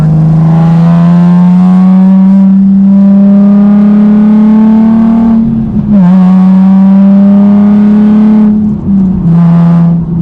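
Nissan 370Z Nismo engine droning steadily while driving, a loud, close, continuous tone that holds a level pitch through most of the stretch, dipping briefly twice as if easing off, never revving near the top.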